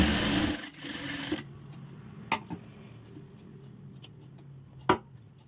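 A sewing machine runs in a fast, steady burst at first while a blouse hem is stitched, then stops. A few sharp clicks and taps follow against a quiet room.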